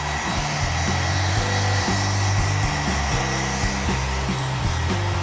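A warm hair dryer used to dry a pet runs as a loud, steady, close whir with a constant motor hum and slight wavering pitch throughout, with no voices.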